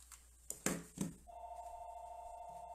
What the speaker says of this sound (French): Il faut fermer le téléphone qui sonne.